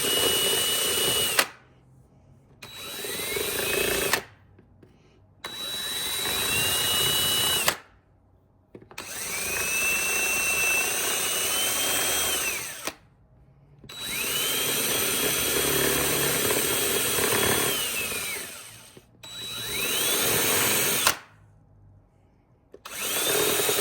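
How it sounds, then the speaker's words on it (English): A small grinder cutting into metal on a Kawasaki KFX 400 ATV, several loud bursts of high-pitched whining grind separated by short silences, the motor pitch rising as it spins up and dipping under load. "I'll just use this small one. And we'll just kind of grind this off along a little bit."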